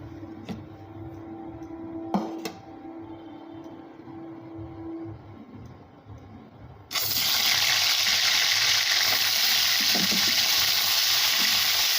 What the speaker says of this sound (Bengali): ট্যাংরা মাছের মাথা এটা ভেজে নেবো ভালো করে